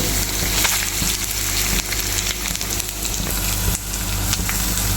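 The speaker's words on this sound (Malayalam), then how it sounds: "എണ്ണ ചെറുതായി ചൂടായി വരുന്നുണ്ട് അപ്പോൾ നമുക്ക് ഈ തേങ്ങ അതിലേക്ക് ഇട്ട് കൊടുക്കാം" Grated coconut roasting in hot oil for a traditional chicken curry, a dense, steady sizzle with crackling and stirring throughout, loud and close with no talking.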